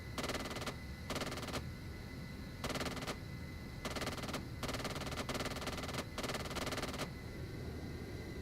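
Video-game aircraft gun run: repeated bursts of rapid machine-gun fire, each lasting under a second, in a fast stuttering rhythm over a constant engine drone, loud and close, with no talking.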